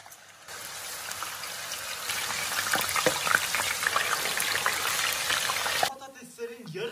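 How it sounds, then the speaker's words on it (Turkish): Frozen potato fries dropped into hot oil for homemade Popeyes-style fries set off a dense, steady sizzle and crackle that swells after the first second and cuts off near the end, with faint talk underneath. "Şimdi bunları kızartmaya geçebilirim."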